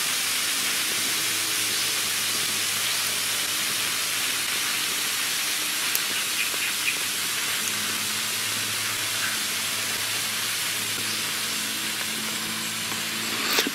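Damp wood sizzles and steams in a fire: a steady, even hiss runs throughout, constant and close, with only faint tiny pops and no talking.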